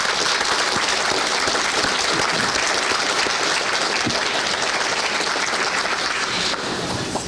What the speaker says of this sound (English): Let's give a round of applause for all those people who helped you along the way.